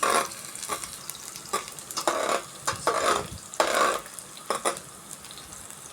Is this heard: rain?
no